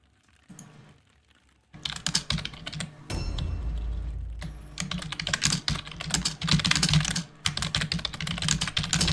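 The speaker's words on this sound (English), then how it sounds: "sorry for the keyboard typing sounds" Computer keyboard typing during a tabletop wargaming stream, a fast clatter of key presses in bursts with short pauses, close and fairly quiet, no talking.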